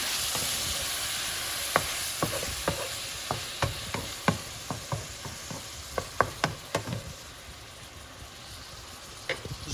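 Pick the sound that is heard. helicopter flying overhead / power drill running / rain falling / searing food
searing food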